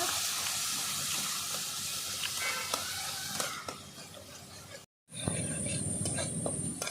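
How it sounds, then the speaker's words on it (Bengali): Onion paste frying in hot oil with nigella seeds, a dense continuous hiss and sizzle close up, briefly cutting out before resuming bright and steady. "পেঁয়াজ বাটাটা একটু কষিয়ে নেব"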